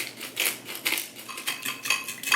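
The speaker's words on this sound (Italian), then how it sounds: "andiamo a mischiare bene il tutto" Seasoned zucchini tossed with oil in a bowl, a utensil clinking and scraping against the dish in quick repeated strokes, close and fairly loud, with no talk.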